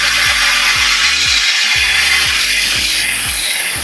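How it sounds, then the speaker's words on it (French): A drill grinding a hole through non-tempered aquarium glass, a continuous loud abrasive whine with a rhythmic low pulsing, close up with no talk. "on perce direct dans le verre"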